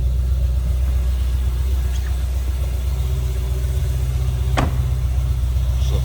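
A 2008 Chevrolet Corvette Z06 coupe with roughly 47,000 miles idles with a steady, deep low rumble from the rear exhaust, followed by a brief sharp tick about midway, with no talk over it.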